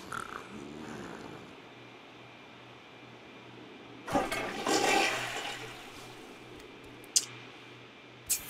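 A toilet flushes in The Sims 3, a loud rushing swell of water lasting about two seconds over a quiet ambient game background, followed by a couple of brief clicks.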